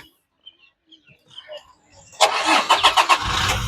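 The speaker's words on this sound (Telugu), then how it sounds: "ఈ కారు సింగిల్ సెల్ఫ్ లో స్టార్ట్ అవుతుందా లేదా అనేది చూపిస్తున్నాను ఒకసారి చూడొచ్చండి పుష్టార్ట్ బటన్ తో స్టార్ట్ చేయాల్సి ఉంటుంది" A 2019 Toyota Fortuner 4x2 AMT starts from its push-start button, firing on the first crank after quiet rustling and faint birdsong, then settling into a loud, steady idle close to the microphone.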